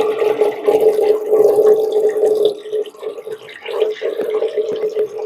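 Water rushes and gurgles down a household drain as it is flushed through after a baking soda cleaning. The flow is steady and close, then turns choppier and splashier partway through.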